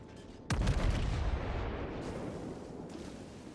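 A ship's main battery fires in a World of Warships naval battle, one loud booming blast followed by a long rumbling, roaring decay with no voices.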